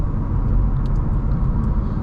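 A 2023 VW MK8 Golf R engine under hard throttle gives a deep, steady low rumble from inside the cabin, loud and continuous, with no talk.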